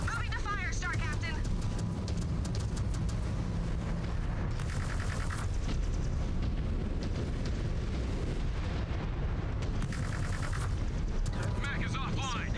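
Mech weapons in MechWarrior 5: Clans open fire on a target, loud booming blasts and bursts over a constant rumble of battle, with voices speaking over the gunfire.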